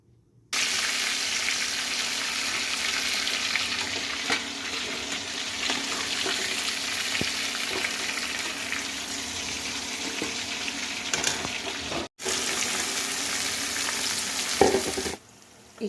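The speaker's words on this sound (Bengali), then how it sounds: "ভালো করে ভেজে নেব চিকেনটা, আলুটাও পাশের কড়াইতে ভাজছি" Chicken and potatoes frying in separate kadais give a loud, continuous sizzle with stirring that runs unbroken apart from a short cut-out near the end.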